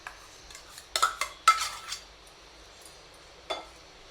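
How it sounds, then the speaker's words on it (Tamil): Tempering being poured into curd rice and mixed with a spoon, giving a few sharp metal clinks against the vessel around the middle of the clip and one more near the end, with quiet gaps between. "தாளிச்சு இப்போ வந்து தயிர் சாதத்தில் நம்ம கொட்டிடலாம்."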